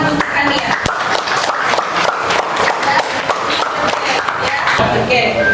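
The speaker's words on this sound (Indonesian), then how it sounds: "Beri tepuk tangan untuk Kania." Schoolchildren in an Islamic education classroom clap for a classmate, sharp uneven hand claps close by, mixed with children's voices and chatter throughout.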